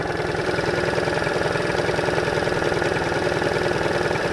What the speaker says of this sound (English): A little too high on the idle still.